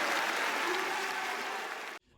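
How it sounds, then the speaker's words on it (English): An arena crowd at a Rainbow Six Siege esports match, the Six Invitational, roars loudly and steadily, with applause and cheering filling the hall for about two seconds before dropping off sharply. "the crowd will roar for the Frenchman"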